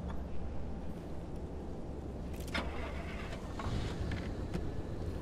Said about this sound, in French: C'est un jeu où tu dois tourner la clé dans le contact et passer une vitesse.